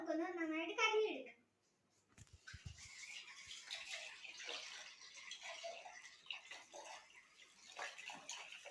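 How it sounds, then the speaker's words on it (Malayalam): Tap water splashes steadily while a cup is rinsed clean, the running-water hiss continuing for several seconds after a brief spoken line at the start. "ഈ കപ്പ് നമുക്കൊന്ന് നന്നായിട്ട് കഴുകിയെടുക്കാം."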